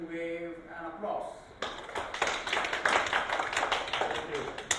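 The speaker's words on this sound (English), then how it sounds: "So let's welcome him with an applause." Opening with a brief voice, a lecture audience then starts clapping to welcome a speaker, a moderate scattering of claps that lasts a few seconds.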